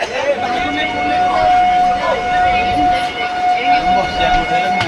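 A train on a journey to Kanyakumari rumbles steadily past with a sustained, piercing tonal whine over the noise, while voices talk nearby throughout.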